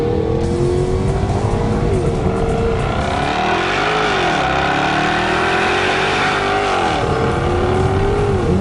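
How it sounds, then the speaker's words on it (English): A 2014 Jaguar XKR-S with a supercharged 5-litre V8 accelerates hard, its loud, gritty engine note climbing and dropping through gear changes under steady road and wind roar, with no one speaking. "any car like this with a big 5-litre supercharged V8 that you have to love, it's the noise"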